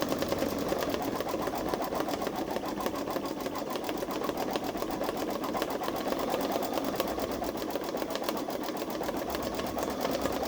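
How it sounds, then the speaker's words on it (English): A Babylock Solaris Vision embroidery machine stitches a patch with a steady, fast mechanical whir and rapid needle clatter, close and continuous without pause. "It's going to stitch her skirt too at the bottom after it gets done with the top."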